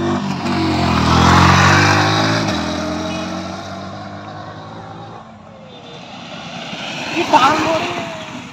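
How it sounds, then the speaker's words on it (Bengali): A Yamaha R15 V4 motorcycle fitted with an R1-look modification makes a flyby, its engine swelling loud and close, then fading away as it passes; a voice talks over it and another short burst of noise follows near the end. "এখানে ফাইনাল একটা পুরো ফ্লাইবাই দিচ্ছে"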